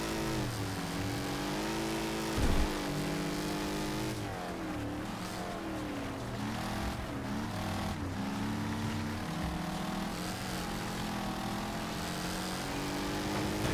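A 1967 Mustang with a four-speed gearbox in the racing game Wreckfest roars continuously, its engine note rising and falling through revs and gear changes, loud and steady with other race cars droning around it.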